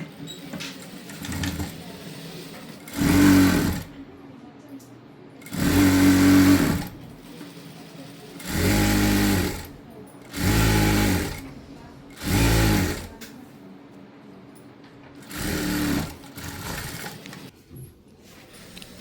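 A sewing machine stitching the side seams of a dress, running in about eight short bursts of rapid close whirring with brief pauses between them, while someone talks quietly in the gaps.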